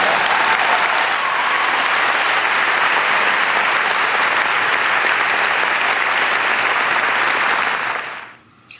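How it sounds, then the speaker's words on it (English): Sustained audience applause at a 1 Billion Rising gathering in Santa Cruz, thanking the organizations that help women: a dense, steady wash of many hands clapping, fairly loud and continuous, fading out at the very end. "Let's give all these organizations a heartfelt thank you and a round of applause"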